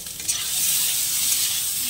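Potatoes fry in a pan for a Bengali home meal, giving a dense, even hiss of sizzling oil that swells after a brief opening and holds steady and close throughout.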